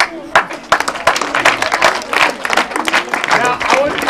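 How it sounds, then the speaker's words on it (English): An audience at an EMC Day gathering gives a lively round of applause, uneven bursts of clapping and crowd noise close by, with voices mixed in throughout. "Another round of applause."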